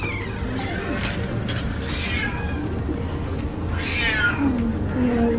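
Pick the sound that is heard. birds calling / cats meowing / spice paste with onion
cats meowing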